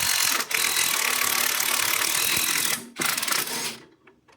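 A ratchet wrench works a 14mm top shock nut on a Suzuki Jimny, a rapid dense clicking run close up that breaks briefly, resumes, then stops.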